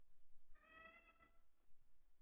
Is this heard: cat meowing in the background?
yes